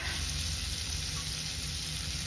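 Butter sizzles steadily in a pan, heated for tempering, with a close, even frying hiss and no voices.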